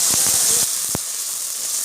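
Onion and tomato paste sautéing in hot oil in a pan with curry leaves, a steady bright sizzling hiss throughout, with a few soft knocks of a spoon near the start.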